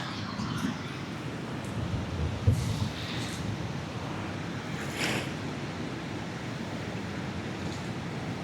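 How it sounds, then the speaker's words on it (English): Wind gusts across a beach with a steady roar of rushing air and surf, close and continuous, with a slight swell near the middle and no one speaking. "Here comes some more wind."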